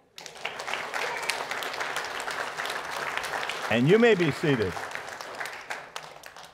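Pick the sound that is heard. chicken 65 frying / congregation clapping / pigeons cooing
congregation clapping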